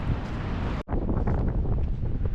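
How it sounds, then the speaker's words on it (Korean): Strong coastal wind gusting over the microphone at Sutro Baths in San Francisco, a loud continuous roaring buffet with one brief break before it surges again. "우와, 바람."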